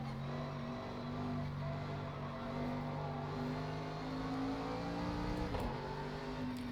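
A big Mercedes race car in Project Cars 2 holds a steady droning engine note, revving with slowly shifting pitch at a moderate, even level and no voices over it.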